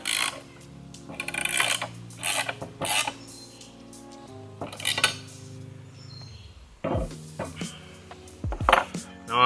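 Metal wrench turning and clinking as half-inch bolts with lock washers are snugged down on a gun bracket, a series of close ratcheting clicks and metallic knocks in irregular bursts.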